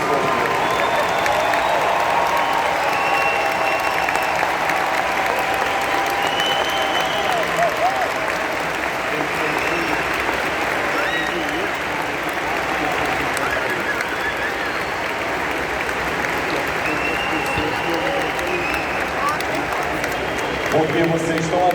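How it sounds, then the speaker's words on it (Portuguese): A large convention crowd at a doTERRA 2023 event applauds continuously for over twenty seconds, a steady, dense roar of clapping with scattered cheers and voices. "se levantem e aplaudam todas as pessoas que estão aqui"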